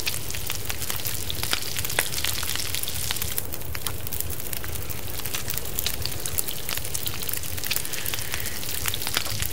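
Food cooks over a fire in The Long Dark, a continuous crackling sizzle full of dense pops and spits, close and fairly loud, with no voices.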